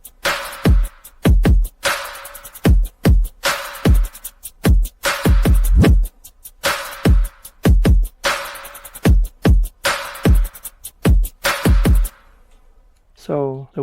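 Future bass drums with the drill hi-hat from Symantec, fast ticking hats running over thumping kicks and roomy snare hits in a steady loud loop, ending in a brief warbling sweep after the beat stops.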